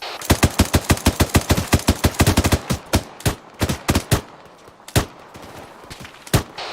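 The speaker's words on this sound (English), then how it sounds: "Proceed with suppressive fire." Suppressive automatic gunfire in the military video game ArmA 3, a loud close burst of rapid rifle shots followed by more scattered single and paired shots.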